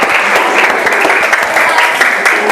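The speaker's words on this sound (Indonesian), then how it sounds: "Kasih aplaus dulu." An audience at an academic coaching and supervision session in a school claps together in a dense, steady burst of applause that holds throughout.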